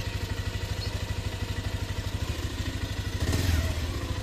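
A motorcycle engine idles nearby with a steady, rapid thumping pulse and mechanical clatter, briefly swelling louder near the end.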